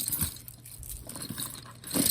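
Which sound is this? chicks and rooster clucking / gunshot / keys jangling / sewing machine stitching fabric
keys jangling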